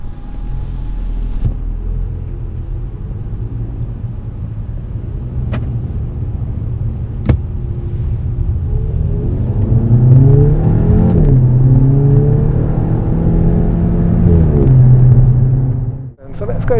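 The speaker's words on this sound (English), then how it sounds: "Let's go and do some driving on track in the Golf GTI TCR." Volkswagen Golf GTI TCR driven on a race track, with a steady in-car engine drone and rumble rising as it accelerates through the gears, under ongoing talk from the driver.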